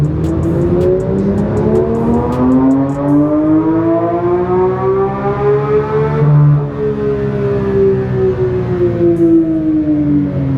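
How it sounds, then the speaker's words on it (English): Porsche Sport Classic engine pulling at full throttle on a dyno with stock exhaust, a loud steady drone whose pitch climbs and then levels off through the run, with no talk over it. "So the second I go full throttle, it's gonna start calculating the run."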